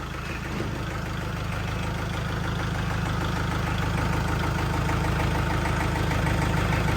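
A vehicle engine idles steadily while reversing during harvest preparations, a continuous low rumble holding at an even, fairly loud level from start to finish with no one talking.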